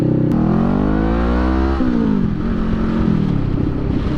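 Honda Rebel 500 motorcycle revving hard while spinning its rear tire on a grassy pasture, a loud, close engine roar rising in pitch, dropping, then surging again.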